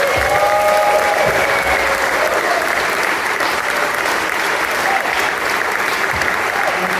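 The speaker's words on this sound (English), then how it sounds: "Can you give a round of applause, please?" Inside St Michael-in-the-Hamlet church in Liverpool, a concert audience gives a loud, continuous round of applause that holds steady for several seconds, with some cheering and voices blended into the clapping.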